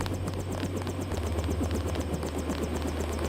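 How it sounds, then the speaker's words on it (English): A helicopter idles while waiting in the Deus Ex video game, giving off a steady low rotor thump that keeps a rapid, even rhythm at moderate distance. "The helicopter is waiting."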